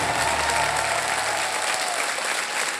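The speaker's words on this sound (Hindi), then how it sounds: "जोरदार तालियां उन बैंड के लिए।" Studio audience on a televised game show gives the band loud, sustained applause, a dense wash of clapping that holds steady for the full stretch with no voices above it.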